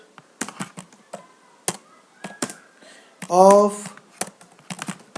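Python code is typed on a computer keyboard in quick, uneven bursts of close key clicks, with a brief spoken word in the middle.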